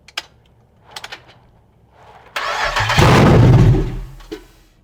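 An LS V8 swapped into a Toyota Celica GT-SS cranks in short, spaced bursts, then catches and fires into a loud, steady idle that settles down toward the end, heard up close in a quiet setting.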